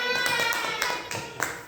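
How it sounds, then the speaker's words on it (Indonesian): A small group in a classroom gives a short round of hand clapping, a quick run of close, moderately quiet claps set over a faint sustained tone. "Tepuk tangan untuk Pak"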